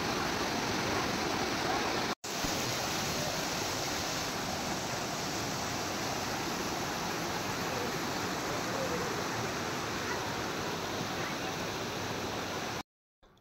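Waterfall in Maredumilli, Andhra Pradesh, with strong flow: a loud, dense, continuous roar of rushing water, briefly cut out once and dropping away near the end.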